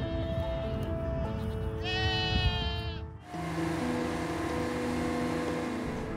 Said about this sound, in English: using goats to trim the grass and remove some of the fuel from underneath our power